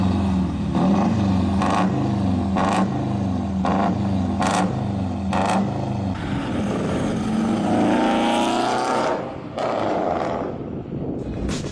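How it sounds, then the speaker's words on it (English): An older Subaru Forester with a flat-4 boxer diesel engine revs, a throaty low rumble rising and falling in pitch through several pulls before fading at the end. "One of the older Subaru Foresters had a flat-4 Boxer diesel engine, which sounds surprisingly good"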